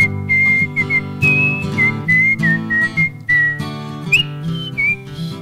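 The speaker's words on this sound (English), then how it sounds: "you can whistle along with me" A melody is whistled clearly by a performer with audience members whistling along over a steady instrumental backing at a live house concert, the notes rising and falling in a lively tune, close and prominent.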